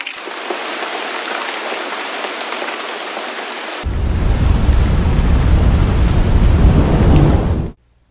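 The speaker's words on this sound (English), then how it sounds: "it rained a lot. It flooded the streets." Heavy rain pours steadily, a dense continuous hiss that swells louder and fuller midway, then cuts off abruptly.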